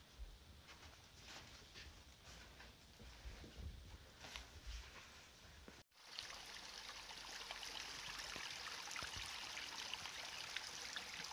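Rushing water from a waterfall-like stream on a mountain trail in the White Mountains near Mount Washington, a steady broadband wash that grows fuller and louder after a brief break midway, with no talk.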